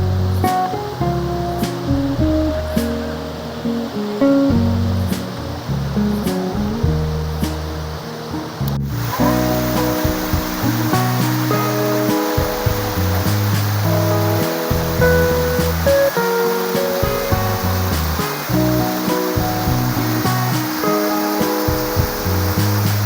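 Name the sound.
Ananthagiri waterfall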